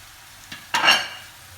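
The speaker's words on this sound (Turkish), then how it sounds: "Şimdi bunu biraz kavurup domatese ekleyeceğim." Chicken with onions and peppers being sautéed for Turkish tantuni, giving a short soft clink followed by a brief burst of stirring and sizzling, fairly faint and close with no talk.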